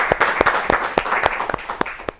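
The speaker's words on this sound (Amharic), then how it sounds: "አጨብጭቡ፣ በደንብ አጨብጭቡላት" A studio audience at a children's quiz show claps for a student, with crisp, fairly regular hand claps over a soft, even bed of wider applause.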